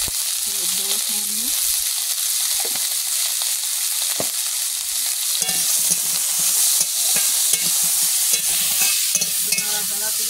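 Spices such as cumin and ginger fry in oil in a pan with a loud, constant sizzling hiss while a utensil stirs and scrapes intermittently, close up. A voice speaks briefly under the frying.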